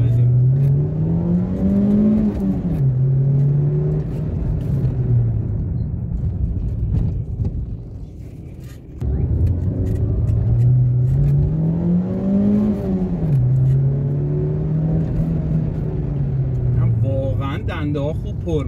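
A car engine fitted with a modified fiber air filter revs up twice in long, rising pulls, climbing in pitch before settling, loud and close, with a short lull between the two runs.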